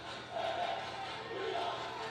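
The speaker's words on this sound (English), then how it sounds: "There's the crowd" A crowd at a state wrestling championship match roars in a sustained wash of cheering and shouting that swells after a brief quieter start and stays loud for about two seconds, with raised voices within the noise.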